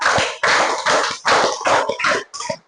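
A seated group claps a rhythmic spirit chant in a classroom, seven loud clustered bursts of hand claps in a counted pattern, with a brief gap before the final burst.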